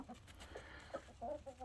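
Chickens peck at a custom feed mix scattered on the ground and cluck softly and steadily, with short, close clucks repeating over a low background of farmyard movement.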